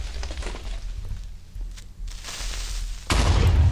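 A TNT block explodes in Minecraft with a loud, noisy crackling blast. A second, heavier low boom hits near the end and stays strong, with no talk over it.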